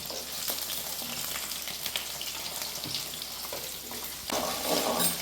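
Onions frying in a pan while being stirred, a soft steady sizzle with occasional scraping strokes, swelling louder near the end, with no talk.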